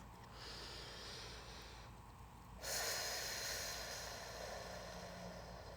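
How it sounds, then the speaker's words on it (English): Slow, deep breathing, air drawn in through the nose and then released through the mouth in a louder, longer rush, close and quiet, with no one talking. "inhale through the nose and exhale through the mouth"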